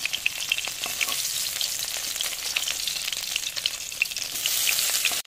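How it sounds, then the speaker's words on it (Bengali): Tangra fish frying in oil while being turned, a close crackling sizzle punctuated by soft clinks and scrapes of the utensil, swelling slightly louder near the end with no voices. "উল্টে পাল্টে মাছগুলোকে লাল লাল করে ভেজে নেব।"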